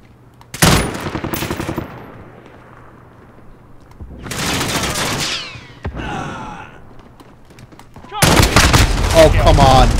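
Gunfire bursts in the video game Call of Duty: Modern Warfare multiplayer match: a loud sharp burst, a quieter rattling volley a few seconds later, a faint thump, then another heavy close burst.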